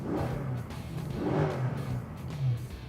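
A Mercedes C63 W204 with a stainless sport exhaust in its quieter street mode rumbles low and close, its engine note swelling in a few gentle revs and settling back between them.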